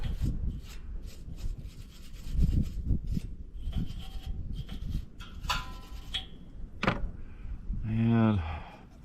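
Scraping stuck gasket fibers off the metal face of a Predator 8750 tri-fuel generator gives repeated rasping, rubbing strokes up close, broken up by short pauses, with a brief voice near the end.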